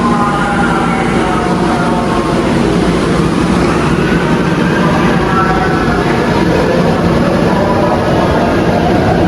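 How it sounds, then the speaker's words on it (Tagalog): MRT commuter train in motion, a steady loud rumble and rail roar heard from inside the carriage, continuous throughout with no talking. "Sumakay ng MRT, no?"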